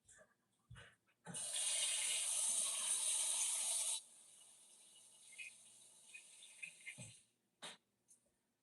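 Water gushes steadily from a tap for about three seconds, loud and close, then cuts off, leaving a quieter room with a few small knocks and drips afterward.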